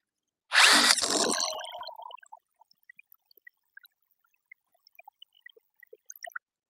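A power drill drives a fastener in a brief, loud whir lasting about a second and a half, then cuts out, leaving faint scattered clicks and ticks.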